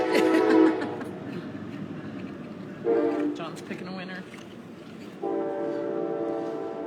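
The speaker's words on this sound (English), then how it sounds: "there's a train coming" A train passes nearby, its horn blowing in two long, loud blasts over a rumbling background while a person talks.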